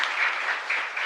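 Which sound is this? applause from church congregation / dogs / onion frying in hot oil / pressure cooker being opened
applause from church congregation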